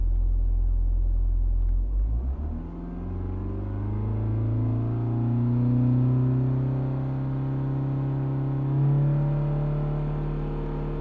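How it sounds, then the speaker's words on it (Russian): A Ford Mondeo Mk4 2.0 TDCi diesel engine with a DPF fault rises from a steady idle into a revved, sustained rumbling drone that swells and eases again, heard up close with no voices. "Сейчас погазую."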